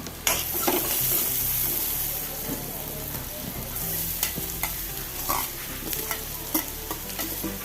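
A spoon stirs chopped beetroot through softened sautéed onion in a pan for Kerala-style beetroot thoran, with a steady close sizzle and repeated scraping clicks as the pieces are turned.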